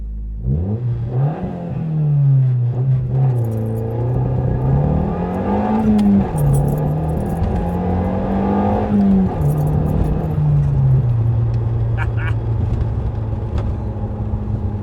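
A 1994 Nissan Pulsar GTI-R with all-wheel drive pulls hard under feathered throttle, its engine note rising and falling in loud, close surges before settling into a steady drone, with a few faint jingling rattles inside the cabin.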